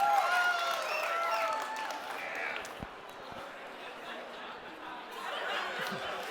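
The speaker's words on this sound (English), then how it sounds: "on the count of 3, you clap, cheer, and freak out" An audience at a live photography lighting workshop claps and cheers on cue, a loud burst of mixed applause and shouting voices at the start that settles into a softer crowd murmur.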